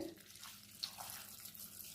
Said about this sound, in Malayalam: ഇനി നമ്മൾ കുറച്ച് വെള്ളം ഒഴിച്ച്